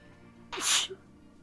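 A character in the point-and-click adventure game Deponia lets out one loud, breathy sneeze, sudden and close, standing out over quiet background game ambience.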